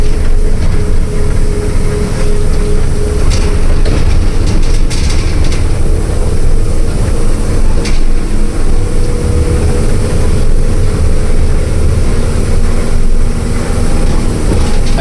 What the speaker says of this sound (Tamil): இன்ஜின் பிரேக் போட்டு இறக்கிட்டு இருக்கோம்.